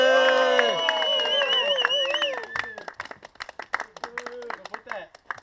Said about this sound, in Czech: velký aplaus!